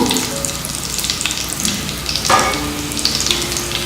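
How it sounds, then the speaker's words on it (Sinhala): Coconut oil heating in a pan gives a steady low sizzle and crackle throughout, with a few brighter spits and pops near the middle, close and moderately loud with no talking. "දැන් අපි පොල් තෙල් ටික රත් වෙගෙන එනවා"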